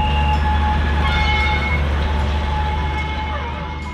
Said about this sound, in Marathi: तर पार्कमध्ये फिरण्यासाठी आपण या वनराणी मिनी ट्रेनचाही उपयोग घेऊ शकता.